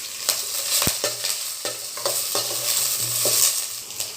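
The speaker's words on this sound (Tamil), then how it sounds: "2 டேபிள் ஸ்பூன் எண்ணெய், கடுகு, உளுத்தம்பருப்பு, கடலைப்பருப்பு போட்டு 2 பச்சை மிளகாய், ஒரு பெரிய வெங்காயம், கறி லீவ்ஸ் இது போட்டு நல்லா வதக்கிக்கிறோம்" Onion, green chillies, mustard seeds, lentils and curry leaves sauté in hot oil, a continuous close sizzle with repeated scraping stirs and small pops, no voices.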